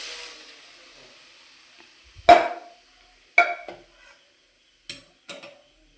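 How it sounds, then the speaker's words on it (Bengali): Boiled lentils go into a pot of cooked mango for dal and get stirred: a few sharp metallic scrapes and clinks of a spoon against the pot, spaced out over near silence, with a faint hiss at the start. "এরপর আমরা সেদ্ধ করে রাখা ডালটাকে এর মধ্যে দিয়ে দেব"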